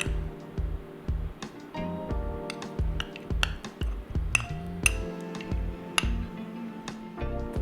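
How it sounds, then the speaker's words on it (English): Blueberries, coconut cream, walnuts and rice malt syrup go into a blender in a kitchen, with repeated light clinks and taps of spoon against glass and a low background hum. "into the blender we want to put our blueberries, followed by our coconut cream, the walnuts, followed by our rice malt syrup,"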